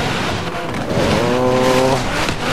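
A car on snow tires spins its wheels in deep snow on a blizzard mountain in Forza Horizon 3. The engine drones loudly and steadily, with a rising, wavering whine from the spinning tires in the middle, and no talk.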